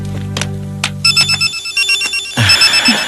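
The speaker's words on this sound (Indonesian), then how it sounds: "Telepon. Sebentar ya, Pak." A telephone rings in a home scene, first with low tones, then a pulsing electronic ring repeating in short bursts, loud and close with no speech.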